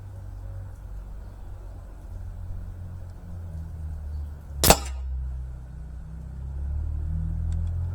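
A single sharp crack from a PP750 air gun firing a UX Mosquito pellet, set against a low, steady outdoor rumble with no other shots.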